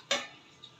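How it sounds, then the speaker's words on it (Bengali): A gas stove igniter gives one sharp click, followed by a fainter second tick a half-second later. "এখন আমি চুলাটা ধরিয়ে দিচ্ছি।"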